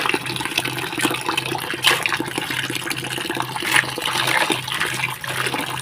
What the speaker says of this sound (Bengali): এখন ধুয়ে নেব তো এই জলের মধ্যে দিচ্ছি